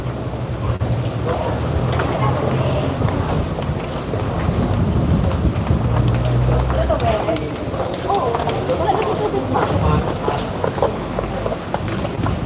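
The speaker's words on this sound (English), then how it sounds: "It's a wild, windy day in Mactan Newtown, by the way." Strong wind buffets the microphone with a steady, rough roar while someone talks over it, in Mactan Newtown, Philippines.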